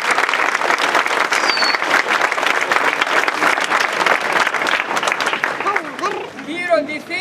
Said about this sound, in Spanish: merecen un fuerte aplauso